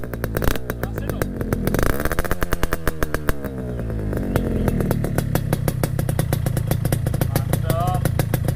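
Close by, a Yamaha RX King motorcycle with an Adem exhaust revs up from a rattling idle, its two-stroke note rising and falling in strong pulses before settling into a steady, fast burble.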